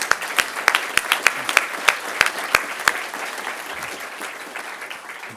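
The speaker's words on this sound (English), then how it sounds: "Can we have a round of applause for OLPC" An audience at a conference on open source in education bursts into loud, close applause, sharp claps at first that settle into a dense, steady patter before fading slightly.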